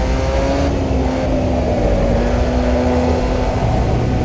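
An F1 junior race car engine runs steadily as the car drives on a track, a loud continuous drone with faint shifting tones throughout and no pauses.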